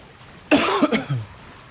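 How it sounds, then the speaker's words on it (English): A single short burst of coughing, two or three harsh chesty hacks close to the microphone, rises abruptly out of quiet, then trails off into a softer breathy tail before silence returns. "Coughing, sniffling."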